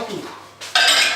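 A spoon stirs and mixes choux cream ingredients in a bowl, starting with soft scraping and ending in a sharper, brighter clatter of utensil against the bowl.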